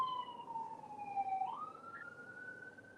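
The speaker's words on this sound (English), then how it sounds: "Oh, you hear the siren?" A distant siren wails, its pitch sliding down and then rising again, faint over low background rumble.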